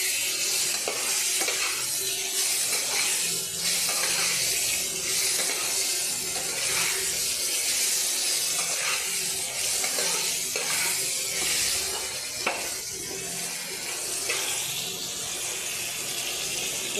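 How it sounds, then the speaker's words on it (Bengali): Potatoes being stirred and fried in a pan with a spoon, soft continuous sizzle broken by repeated scraping strokes and light clinks against the pan, moderately quiet with no talking. "এরপরে আমি আলুগুলো দিয়ে দিলাম। আলুগুলো দিয়ে একটু নেড়ে"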